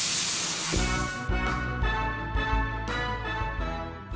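Bacon and tofu fry in a pan for Okinawan goya champuru, giving a steady close sizzle and hiss throughout, with tonal music-like sounds layered over it.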